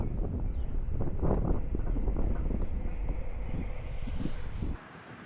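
Steady wind buffets the microphone while riding a bicycle along a Michigan rail-trail, a continuous low roar and rumble that drops away abruptly near the end.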